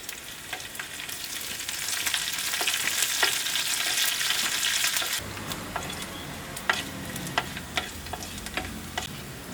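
Onion and curry leaves dropped into hot oil set off a loud, dense sizzle that eases after a few seconds into quieter crackling, with occasional ticks from stirring.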